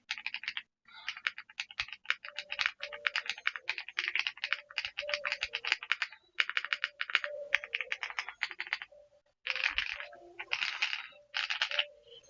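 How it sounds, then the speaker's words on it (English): Bursts of rapid clacky keystrokes from an RD75 Pro mechanical keyboard with no foam inside, a dense typing rhythm broken by short pauses, close and clear with no talking. "build with the old keyboard, and it currently has no foams in it, and so sounds a little bit like this."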